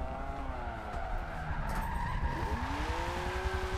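In Forza Motorsport 7, a car skids after the handbrake is pulled during a drift, giving a continuous wavering tire squeal over a steady engine roar.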